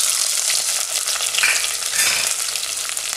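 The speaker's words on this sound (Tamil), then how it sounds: "வெங்காயம் கொஞ்ச நேரம் வதங்க விடுவோம்." Onions, with curry leaves and green chillies, sizzle and crackle steadily in hot oil for a prawn sukka, a loud, close, continuous frying hiss with occasional stirring.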